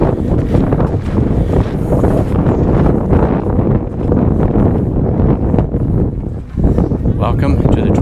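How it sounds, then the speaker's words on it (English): Heavy wind buffets the microphone in loud, constant rumbling gusts at Lake Havasu, Arizona, with a person talking faintly beneath the noise. "right now it's kind of windy, so you're probably just getting a bunch of wind"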